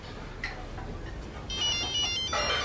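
A phone ringtone starts up partway through, a faint repeating electronic tone over quiet room noise.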